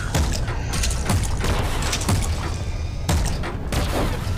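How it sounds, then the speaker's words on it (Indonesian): Heavy cannon blasts from a mammoth tank in a tank battle game boom in repeated bursts, each a loud thudding crack over continuous rumbling game noise. "tembakan dari tank mamut ini sangat berbahaya"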